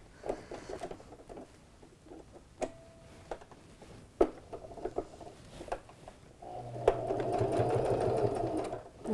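Sewing machine switching from zigzag to straight stitch on a first aid pouch: scattered clicks and knob adjustments, then a steady close mechanical whir of stitching for the last few seconds.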